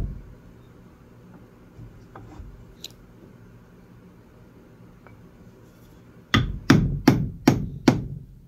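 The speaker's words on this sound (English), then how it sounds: "That's the drive spur on the lathe. You pound it in so that it will actually turn the wood, so it has a bite." Drive spur pounded into a wooden blank for mounting on a lathe: five loud, sharp hammer strikes in quick succession near the end, after mostly quiet handling noise.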